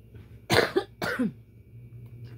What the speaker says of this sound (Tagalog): Dahil ubo noon ko.